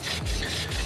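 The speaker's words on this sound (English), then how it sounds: "Take a little bit of Scotch-Brite." Scotch-Brite scrubs a go-kart clutch part in quick, rough back-and-forth rubbing strokes. The strokes are close and steady, about three in under a second, with no talk.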